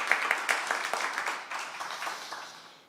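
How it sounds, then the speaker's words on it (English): Audience applause at a live bluegrass radio show, steady clapping that starts fairly strong and fades slowly over a few seconds, with a few louder claps near the start. "how about one more round of applause for David Easterling"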